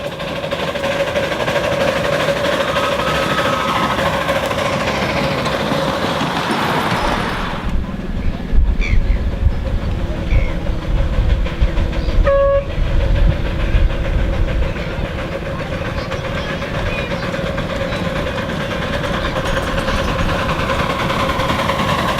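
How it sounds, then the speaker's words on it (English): A live steam K36 2-8-2 locomotive, a model of Denver Rio Grande number 482 on 7 1/4 inch gauge track at a steam convention, runs steadily with a continuous mechanical rumble and hiss, a brief quieter gap midway, and no talk. "This impressive 282 locomotive was run for all 5 days of the convention and pushed the limits of engineering on the 7 1/4 inch gauge."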